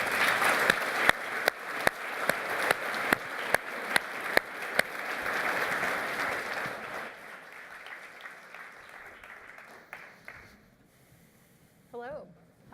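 Audience applause welcoming two speakers onto a stage at a live talk event: sustained clapping with sharp individual claps standing out early, thinning gradually, followed by quieter room sounds and a brief voice near the end.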